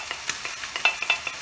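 Vegetables frying in a pan on turned-down heat, a soft steady sizzle broken by repeated scraping stirs at an irregular rhythm, close and fairly quiet with no talking.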